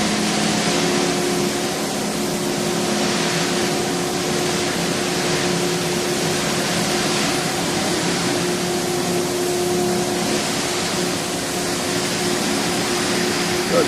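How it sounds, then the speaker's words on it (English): A vacuum pump on a Brown/Modern A60 thermoformer runs with a steady, dense hum and hiss, loud and unbroken throughout, with no pauses or changes in pitch. "I don't think you're going to see the vacuum pump. It's there, it's running, working."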